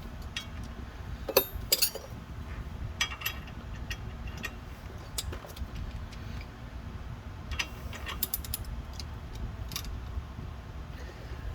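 Bolt being tightened by hand on the front hub of a 2004 Chevy Suburban, passenger side, giving faint ratchety clicks and metal clinks in a few close, irregular bursts over a low shop background.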